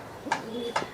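A female local Rajshahi giribaj pigeon coos twice at close range, two short soft calls about half a second apart over quiet background.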